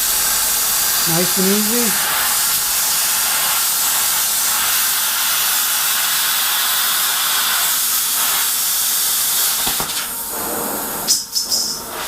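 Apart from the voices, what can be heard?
plasma cutter cutting metal panel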